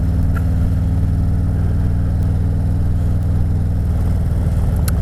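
A motorcycle engine drones at a steady, loud low pitch while riding home on the road at night, its hum continuous and unbroken with faint wind underneath.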